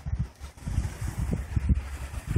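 Sea breeze buffets a phone microphone on Vama Veche beach, producing low, uneven rumbling gusts that swell and fade continuously, close and fairly loud with no talk over it.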